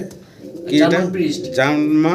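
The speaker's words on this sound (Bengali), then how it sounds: "এখানে দুইটা সিঙ্গেল কবুতর দেখতে পারতেছেন একটা হচ্ছে নুরান লার্ক" Nuran lark pigeons cooing at close range, a few rolling coos overlapping, with a person talking nearby.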